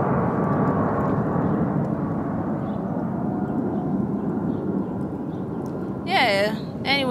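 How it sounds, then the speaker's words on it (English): An airplane passes overhead outdoors on a pleasant day, a broad continuous rumble that fills most of the moment, with a few high chirping sounds near the end. "Y'all hear that airplane?"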